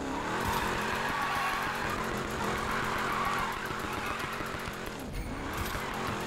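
Chevy Camaro SS drift build in Need for Speed Payback, its engine droning loud and steady while tires squeal through a long slide, with a brief dip near the end before the roar resumes.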